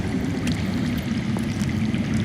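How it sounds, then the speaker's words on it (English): Water flowing underground in Telltale's Game of Thrones video game, a steady low rushing, gurgling stream heard alone at moderate volume. "I hear water. From underground."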